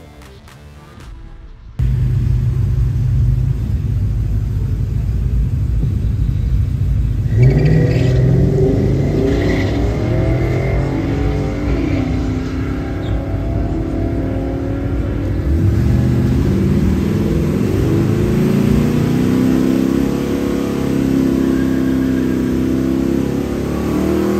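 A 1996 4.6-litre V8 Mustang makes a first-round drag strip run. After a brief idle, the engine roars loudly and close, climbing in pitch through repeated gear changes for over twenty seconds.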